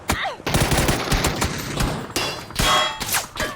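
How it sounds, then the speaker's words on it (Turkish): Rapid gunfire from the battle-royale video game PUBG, with bursts of automatic shots and sharp cracks that come loud and close, broken by brief pauses. "Gerideyken de bana sıkıyorlar."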